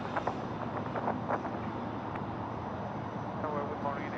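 A passenger airplane taking off from runway 34 left at Sydney Airport, a steady broadband jet roar with wind buffeting the microphone, continuous and fairly loud throughout.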